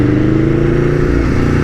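An Aprilia Tuono V4 1100 motorcycle roars loudly and close, its V4 engine holding a deep, rough, pulsing drone with slight pitch shifts through a quick-shifter gear change.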